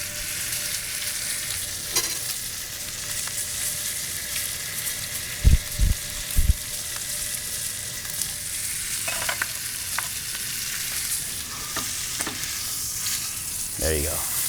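Steady, crackling sizzle of a steak's fat side searing in a hot pan, close and continuous over the whole stretch, with a few brief knocks and scrapes partway through.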